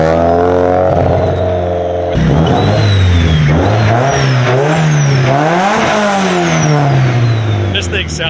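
A car engine revs up and down repeatedly, loud and close, with the pitch climbing and falling in several strong sweeps.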